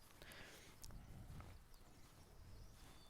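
Horse hooves clip-clop at a walking pace in the video game Pillars of the Earth, faint and soft against a quiet background hiss, with no one talking.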